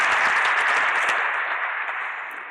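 An audience at a mayoral welcome event gives a warm round of applause, dense, close clapping that starts at full strength and gradually thins over a couple of seconds.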